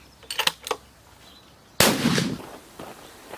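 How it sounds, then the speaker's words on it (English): A .300 Winchester Magnum rifle firing 170-grain hunting ammunition at a target in South Africa gives one sharp, loud report that rings out and decays over about a second, after a few faint clicks of handling. "We'll take another shot and see if we get that a bit more closer to the bullseye"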